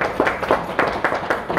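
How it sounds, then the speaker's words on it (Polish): An audience at a live cookware sales presentation gives thin, scattered applause, a few uneven hand claps at a moderate distance, without a full sustained ovation. "brawa są może nie słabe"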